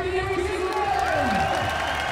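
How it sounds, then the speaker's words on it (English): A steady, dense crowd roar with clapping and cheering fills a BMX spine final at FISE World Montpellier 2015, heard from within the stands while a commentator talks over it. "Listen to the supportive crowd clapping, cheering for Dean right now."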